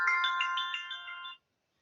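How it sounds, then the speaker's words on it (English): A phone ringtone plays a short bright electronic melody of quick chiming notes, clear and close, then cuts off abruptly after just over a second, leaving silence. "it's my phone."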